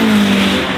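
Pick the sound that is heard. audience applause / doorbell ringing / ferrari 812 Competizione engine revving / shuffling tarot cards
ferrari 812 Competizione engine revving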